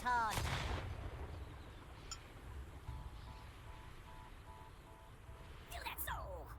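In the video game Worms W.M.D, a sharp, loud explosion bursts at the start and fades into a low rumbling tail, followed by more quiet crackling and a voice near the end.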